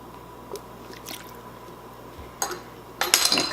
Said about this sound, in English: Now we're going to add a teaspoon of Worcestershire sauce. And a teaspoon of lemon juice.